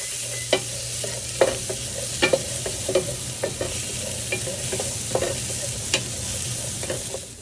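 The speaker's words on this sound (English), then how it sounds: "Add the chopped onion, saute it for about a minute." Chopped onion with green chili sautéing for rajma: a steady, even hiss of frying oil runs throughout, punctuated by regular spoon taps and scrapes against the pan, close and alone without talk.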